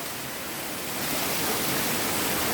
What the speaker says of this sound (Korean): 이렇게 가까이에서 만날 수 있는 이런 폭포